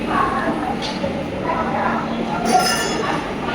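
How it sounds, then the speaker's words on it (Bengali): The Gitanjali Express stands at Nagpur railway station. A steady rumble of station and train noise carries a few metallic clinks, and voices are heard in the background. "এই ট্রেনটা আমাদের গীতাঞ্জলি"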